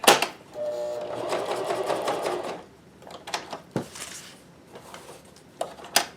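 A Janome CoverPro1000CPX coverstitch machine runs in a steady burst for about two seconds at close range, then stops, followed by scattered clicks and handling knocks.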